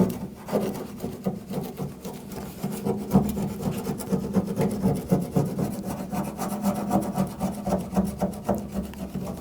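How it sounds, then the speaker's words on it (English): A plastic scraper scrapes leftover adhesive off the tailgate of a 2014-2018 GMC Sierra in close, rhythmic rasping strokes, each rough scrape repeating steadily at a moderate level with no talk. "go back with a scraper, try to scrape it off"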